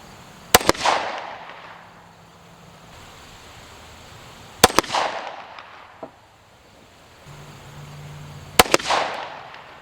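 Three pistol shots fired at a target on an outdoor range, each a sharp, loud crack followed by a brief decaying echo, spaced roughly four seconds apart with quiet in between.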